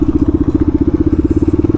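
A superbike motorcycle engine throbs close and loud in a steady, rapid pulsing rhythm, with no talking over it.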